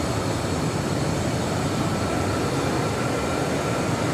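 A Delta airliner roars down runway 24 left at LAX on its takeoff run, a loud, steady, broadband jet rumble that holds constant without pause or talking.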